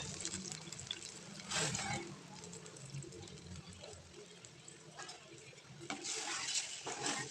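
Water is poured into a pan of fried ingredients for upma, with a gush at the start and again near the end, between softer stirring and the clink of utensils.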